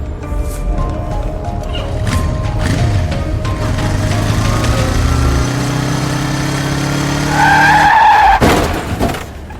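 A motorcycle skids on pavement and crashes, its rider without a helmet: a loud, sustained engine and tyre screech builds for several seconds, then a sharp impact and clatter near the end, with no talk over it.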